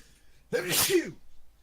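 A single loud, sharp sneeze bursts out close by, followed by a short breathy trailing sound.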